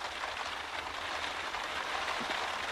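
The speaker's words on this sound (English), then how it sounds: "As we left the house, trailer, it started to rain." Steady rain falls outside near a house and trailer, a dense, even hiss of drops on surfaces that carries on without pause and without voices.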